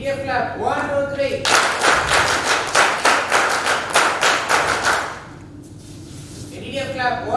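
Counted, unison clapping from an assembled group posing for a press photo at a Silver Jubilee function: a loud run of regular, synchronized claps that stops sharply, bracketed by talking.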